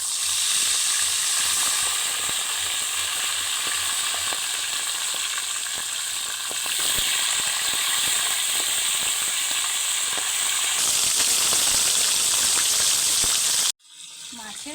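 Fish heads fry in hot oil, giving a loud, steady sizzle with spitting crackles that carries on for most of the stretch before cutting out abruptly near the end.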